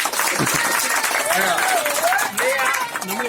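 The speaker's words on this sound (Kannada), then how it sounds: "ಎಲ್ಲರೂ ಶ್ರೇಯಾಗ ಒಂದು ಚಪ್ಪಾಳೆ ಕೊಡಿ" An audience applauds a child at an Environment Day celebration, steady broadband clapping lasting the whole moment, with a voice talking over it.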